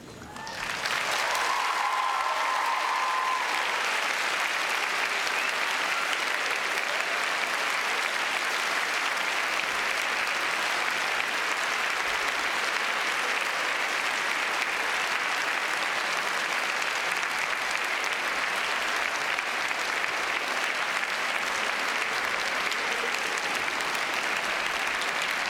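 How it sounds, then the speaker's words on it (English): A large audience at a Cardiff University graduation ceremony gives long, continuous applause and cheering for staff and supporters, a thick steady roar of clapping that holds at full volume throughout. "give a great round of applause and cheer to all those staff and supporters who are with us today"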